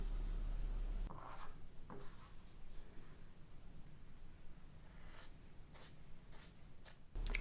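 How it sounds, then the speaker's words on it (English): Scissors trim the fabric edges of a 3D face mask's filter pocket, giving a few soft, close snips and rustles spaced several seconds apart in a quiet room. "let me just trim up these edges here"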